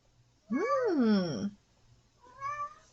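A cat meows twice up close, first a long, drawn-out cry and then a shorter, softer one.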